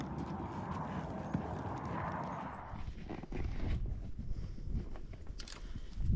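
Horse hooves clip-clop steadily as a rider moves through cedar trees on a ranch while gathering cattle, close and rhythmic over outdoor ambience.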